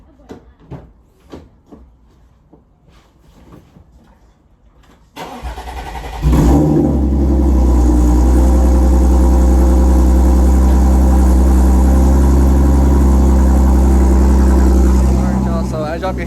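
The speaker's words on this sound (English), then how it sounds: "I'll give y'all a cold start of the car and everything" Car engine cold start: after a few seconds of quiet movement and a door or cupboard clunk, the engine cranks and catches with a loud roar, then holds a high, steady, slightly choppy idle rev close to the mic.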